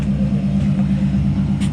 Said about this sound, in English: You gotta rev the car.